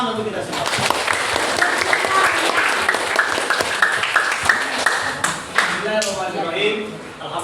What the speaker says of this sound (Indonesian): Nah, tepuk tangan untuk kita semua.